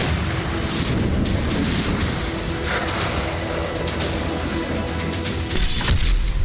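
Artillery fire during the Russia-Ukraine war, heard as a dense, continuous roar of booms and cracking blasts layered over each other, loud and sustained without pause.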